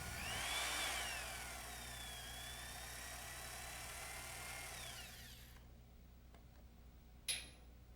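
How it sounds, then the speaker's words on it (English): A power drill whines steadily while drilling quarter-inch bolt holes in a metal helicopter landing gear, its pitch sliding up and down, then cuts out after about five seconds; a short sharp click follows. "drill the 1/4 inch rear landing gear bolt holes and install the bolts"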